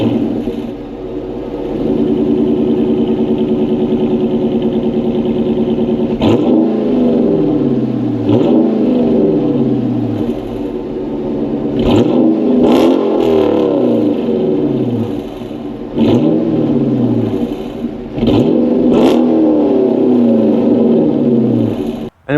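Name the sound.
Dodge Charger Hemi V8 engine revving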